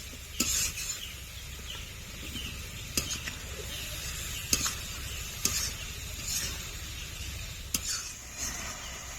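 Fried potatoes and Kashmiri red chili powder are stirred in a pan for a Bengali silver carp fish curry. A low sizzle runs underneath while a utensil scrapes and clinks sharply against the pan every second or so.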